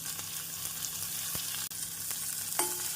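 Mustard and cumin seeds splutter in hot oil, a steady sizzle with scattered crackling pops, a close continuous frying hiss with no voices.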